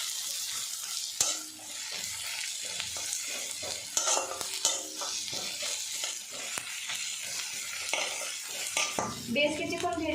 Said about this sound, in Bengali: লালচে রং ধরিয়ে ভেজে নেব।